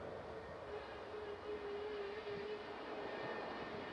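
An SAS airliner with red engines arrives at Manchester Airport, its engines holding a steady, moderately distant roar with a thin sustained whine running through it.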